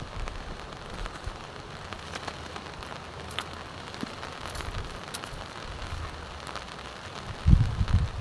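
Heavy typhoon rain pours steadily in the mountains, a dense, even hiss of drops drumming on surfaces with no voices, swelling into a louder burst near the end.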